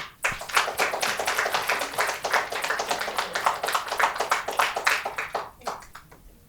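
Audience applause welcoming Sandra Byron to the stage at a talk about her breast cancer struggle: dense, steady clapping from a crowd, fairly close, lasting several seconds before fading out near the end, with no talking.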